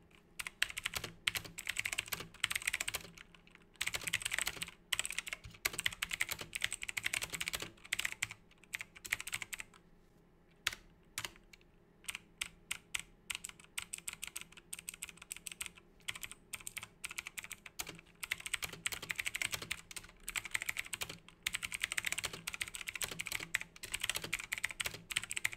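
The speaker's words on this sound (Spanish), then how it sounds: "esto sería el test de sonido, amigos, de lo que sería el teclado ACGAM 109R" Typing on an ACGAM 109R mechanical RGB keyboard, close and crisp, with rapid clacking bursts separated by brief pauses and no talk.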